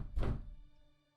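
A single muffled thump imitates banging on a room door, made as a tabletop sound effect during a tabletop roleplaying session; one quiet, close, low impact that fades quickly into silence.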